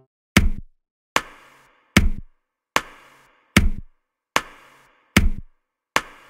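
A dry, punchy snare hit made from toilet paper repeats eight times at a steady tempo, each a sharp papery crack with a short decaying tail, alone and fairly loud.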